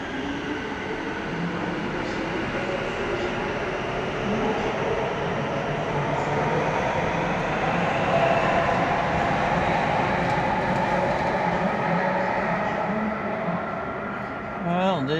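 Metro train in the underground tunnel at Anzac Station: a steady, loud rumble of rolling carriages and platform noise fills the whole stretch, with a brief rising squeal near the end and faint voices underneath.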